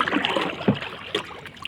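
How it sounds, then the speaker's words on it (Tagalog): Paddles dip and splash through choppy sea water as a small boat is rowed back against a strong current, soft close watery strokes over a steady wash. "At okay, mananagwan pa pabalik doon."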